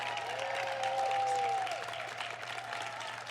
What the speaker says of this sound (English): Please give these hardworking women an enthusiastic round of applause